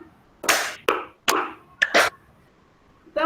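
A training group claps together in short rhythmic bursts, five or so sharp clusters of hand claps close by, then a pause before a final clap begins.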